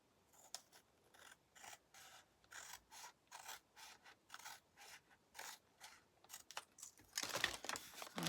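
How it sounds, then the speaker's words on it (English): Scissors snip through paper to cut journal pieces, giving a quiet, close, rhythmic series of about a dozen short cuts, followed by a brief rustle of paper. "And then I'm going to cut a bit off the top as well."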